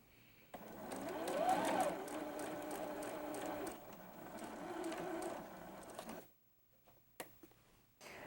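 Sewing machine piecing fabric for a mini double wedding ring quilt, a steady close whir for about six seconds that stops, followed by a quiet pause and a few small clicks.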